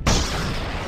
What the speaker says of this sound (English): Then this substance broke into pieces through a big explosion.